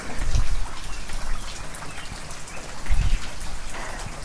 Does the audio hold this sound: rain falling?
yes